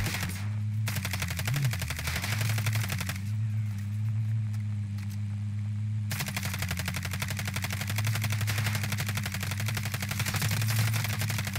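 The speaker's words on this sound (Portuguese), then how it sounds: "Eu vou atirar até arregaçar o carro deles" Rapid bursts of automatic gunfire in a video game, aimed at a car, rattle continuously for the whole stretch, dense and steady, with a low engine-like hum running underneath.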